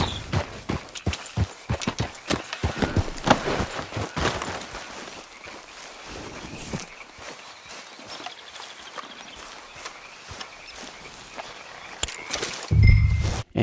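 Hooves clip-clopping as a horse is ridden in the video game Red Dead Redemption 2, a quick rhythmic patter that is strongest early, then softens into a quieter gait before a louder burst at the end.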